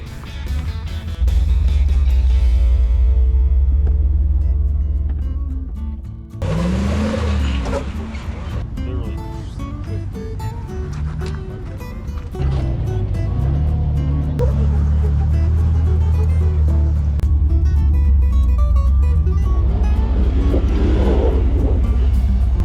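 The engine of a Jeep Liberty build revs hard and loud at close range, with throttle bursts, brief easing off and quick returns to power.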